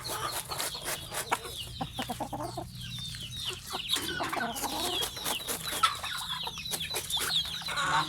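Chickens cluck steadily while eating a soft feed of mashed banana stem and fermented tuber, with several birds close by making busy overlapping calls throughout.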